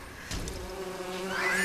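Bees buzzing around a beehive in the game Lego Lord of the Rings, a steady droning hum that lasts the whole brief moment and swells slightly toward the end.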